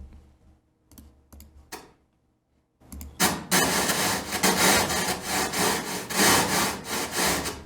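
A white-noise audio oscillator in TouchDesigner multiplied by a second signal gives a loud broadband hiss chopped by rapid, uneven volume swings. A few quiet clicks and a brief silence come before it.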